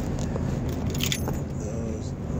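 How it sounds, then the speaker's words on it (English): A bunch of keys jangles steadily near the microphone for a couple of seconds, set against a constant low rumble like an idling car or road traffic. "Keys."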